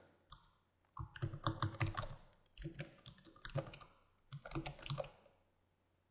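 Keys clatter on a computer keyboard as an email address is entered into an account sign-up form, in two quick bursts of close, crisp clicking separated by a short pause.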